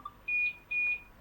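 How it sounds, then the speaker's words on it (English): Two clear electronic beeps of equal length from a train cab warning signal in Train Sim World 2 on the Isle of Wight line, steady and evenly spaced, with no voices. "Beep beep."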